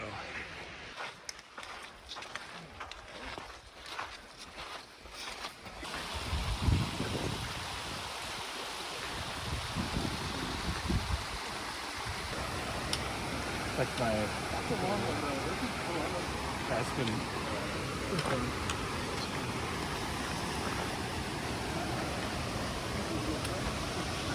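The North Fork of Lone Pine Creek on the Mount Whitney Trail rushes steadily in a broad, continuous wash that swells after a few seconds of footsteps and rustling, while hikers talk over it.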